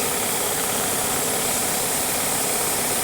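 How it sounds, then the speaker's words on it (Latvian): A fan that has been switched on runs steadily, giving a loud, unbroken, even whooshing hum with no change in pitch or rhythm and no voices. "Mums tā ir ventilators ieslēgts."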